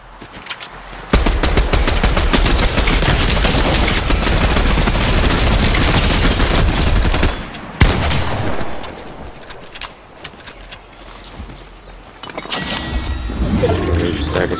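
Loud, sustained automatic gunfire from a video game, continuous bursts that drop off briefly then resume, close and dense.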